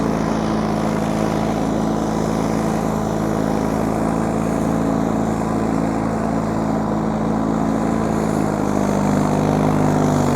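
A John Deere 316 lawn tractor running with a snow blower attachment, its engine droning loud, steady and close with a continuous low hum and blower rush throughout.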